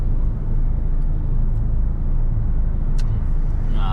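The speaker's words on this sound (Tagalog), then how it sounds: "Traffic na naman tayo guys" Low, even rumble of slow road traffic in Prague, Czech Republic, idling and creeping engines with a short hiss near the end, no voices.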